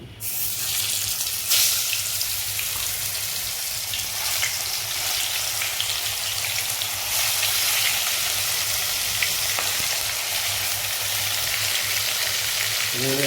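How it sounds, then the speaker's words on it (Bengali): Marinated katla fish shallow frying in oil, a steady close sizzle and crackle running throughout with a faint low hum beneath. "মাছগুলো আমি ম্যারিনেশন করে রেখেছিলাম যেগুলো এখন একে একে ফ্রাই করে নেব শ্যালো ফ্রাই করে নেব আমি"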